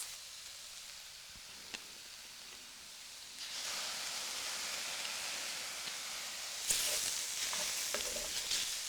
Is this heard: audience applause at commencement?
no